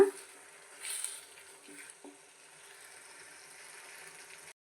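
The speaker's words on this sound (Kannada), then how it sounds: "ಈ ಥರ ಮಿಕ್ಸ್ ಮಾಡಿ ಮಿಕ್ಸ್ ಮಾಡಿ ನಾವು ಇದನ್ನು ಫ್ರೈ ಮಾಡ್ಕೊಳ್ಳೋಣ" A tomato and coconut paste frying in a pan for chicken gravy makes a steady, soft sizzle with a few stirring clinks early on, then cuts off abruptly.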